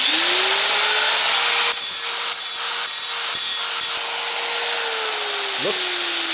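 Close and loud, an angle grinder whines steadily against a titanium exhaust pipe to clean its surface, with a few rhythmic scraping bursts in the middle before the pitch drops as it winds down.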